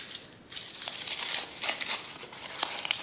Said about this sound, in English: So crinkle it up and leave it crinkled